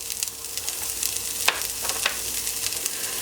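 Steady crackling sizzle of diced carrot frying in melted butter, close and continuous, with a few louder pops and scrapes of stirring.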